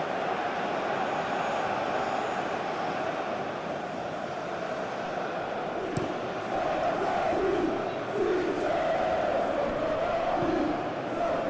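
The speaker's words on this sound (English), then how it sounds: "Maybe the crowd will stay a little quieter next time." Stadium crowd in the eFootball PES 2021 football game, a World Cup match between Croatia and Ghana, a steady dense roar of fans with swelling chants and cheers rising in the second half, continuous and full throughout.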